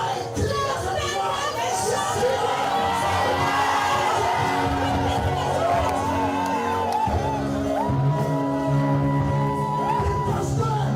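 Church congregation shouting and whooping together at a French-language revival service, a loud, sustained crowd roar of yells and chatter over music.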